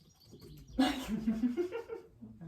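A pet cat and the next-door neighbour's cat fight, letting out faint, wavering yowls and growls. The sound rises and falls in pitch, comes from a distance and plays over a quiet room.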